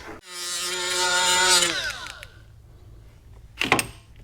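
A power drill with a roll lock abrasive pad cleans the surface of a non-aluminum thermostat housing on a Dodge Ram 6.7L Cummins. A loud whine winds down over about a second, then a short clatter follows near the end.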